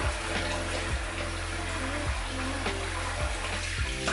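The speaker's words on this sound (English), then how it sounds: "Right, we'll just rinse off." Running tap water splashes steadily at a sink as a face is rinsed after a wet shave, a continuous close wash with small irregular splashes and no talking.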